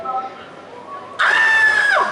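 A girl in a school classroom lets out a loud, sustained high scream lasting under a second, breaking into the quieter children's murmur that runs beneath it.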